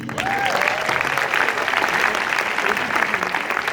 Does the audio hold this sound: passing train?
no